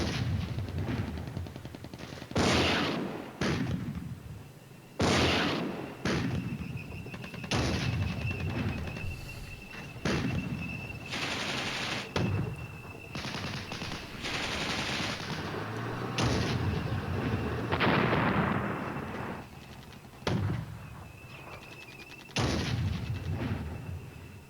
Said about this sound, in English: More fire is being exchanged.